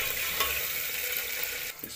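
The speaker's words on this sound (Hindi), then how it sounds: "थोड़ा टमाटर फ्राई करेंगे" Tomatoes and green chillies frying in a home kitchen pan, a steady close hiss of sizzling oil that runs unbroken, with a brief stirring scrape near the end and no talking.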